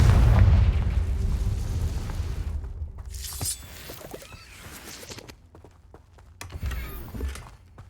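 A Confringo spell blast in the PS5 game Hogwarts Legacy: a heavy boom opens the clip, followed by scattered crackles, debris and shattering bits that fade out over the next few seconds.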